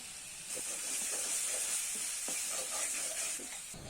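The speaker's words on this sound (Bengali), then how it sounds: "বাটা মশলাগুলো ভালো করে ভেজে নিচ্ছি" Ground onion, ginger and garlic pastes fry in a pan while being stirred, giving a steady sizzle with soft scraping strokes that recur through the sound, and no voices.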